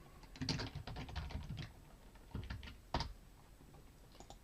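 Computer keyboard keys, shift and arrow keys, pressed during LabVIEW programming: a quick burst of close clicks, a pause, then a few more isolated taps, with no voices.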